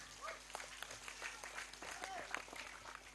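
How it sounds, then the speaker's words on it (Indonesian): Faint, thin clapping from an audience at a humorous Islamic sermon delivered in the Ngapak dialect, scattered claps running steadily throughout with voices murmuring beneath. "Tepuk tangan dulu dong."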